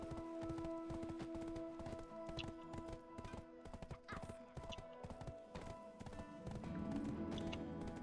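Horse hooves clip-clop in a brisk, steady rhythm in the video game Black Desert Online, over a sustained musical tone, with a louder rumbling patch toward the end.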